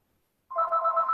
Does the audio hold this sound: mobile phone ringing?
yes